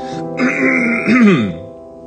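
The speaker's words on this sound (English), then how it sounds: "I'm just clearing my throat so I can sing better for everyone." A person clears their throat loudly and close up, a drawn-out rasping rumble with a voiced rise at the end.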